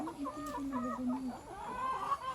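A rural rooster clucks close by in a steady run of low, throaty calls, with softer higher clucks toward the end and no talk over it.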